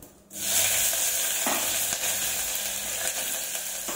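Cumin seeds and green chillies hit hot oil with a loud, dense sizzle that stays strong throughout, broken by a few stirring scrapes; no speech.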